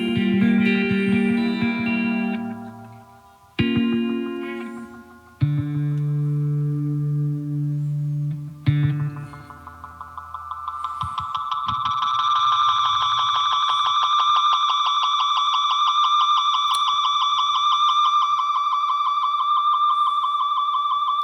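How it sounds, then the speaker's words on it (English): Electric guitar played through a Cicognani Pompeii T1 pedal with a reverb and echo effect, giving sustained chords and then a long, shimmering, repeating high tone that trails off in echoes, with no talking. "It definitely has that Echo Rec kind of, sounds like reverb kind of thing going on."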